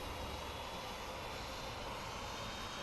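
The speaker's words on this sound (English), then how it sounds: "An engine is starting now." A CRJ jet engine spooling up during start in a flight simulator, a steady broadband roar and whine filling the clip evenly from start to end, loud and close with no talk.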